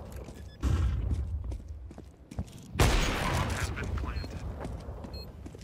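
Bursts of video game gunfire, two loud blasts standing out among scattered quieter shots, with game noise and faint talk underneath.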